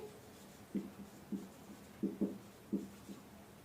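A pen writes on paper during a math lesson on drawing graphs, making soft, close scratching strokes in short irregular bursts against a quiet background; nobody talks.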